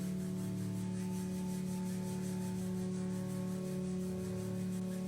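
Hands rubbed together imitating a cricket, a soft continuous dry rasping close by under a steady hum, fairly quiet and unbroken.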